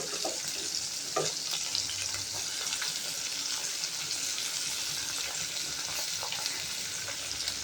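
Pieces of fish for a potato, taro and eggplant fish curry fry in oil with a soft, continuous sizzle, steady and moderately quiet, punctuated by a couple of light stirring knocks.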